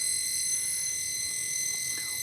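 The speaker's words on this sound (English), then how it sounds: "That sound is my flasher." A fish finder flasher used for ice fishing gives off a steady, high electronic tone that holds through the whole stretch with no talking over it.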